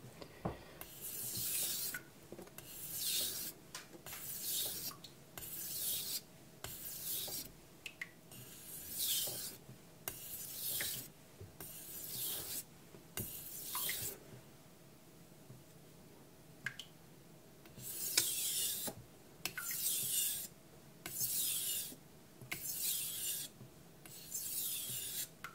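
A kitchen knife is stroked across a Naniwa Pro 1k whetstone in steady, rhythmic rasping passes. The strokes pause briefly midway, then resume at the same even pace, with no talking.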